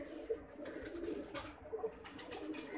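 A pigeon being held and shown coos softly in repeated low, throaty murmurs, close but faint, with no one talking.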